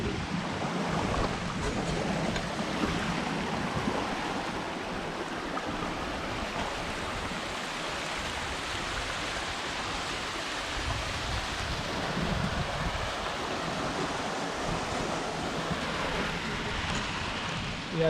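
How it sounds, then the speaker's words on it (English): Waterfall on Ruapehu, New Zealand, a steady broadband rush of falling water heard close and loud throughout, unbroken and without talking. "that's a pretty cool waterfall"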